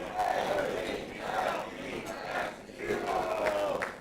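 An audience in a room does the Philadelphia Eagles cheer, a crowd chanting together in loud rhythmic swells that rise and fall several times.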